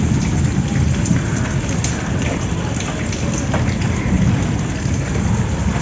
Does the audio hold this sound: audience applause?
no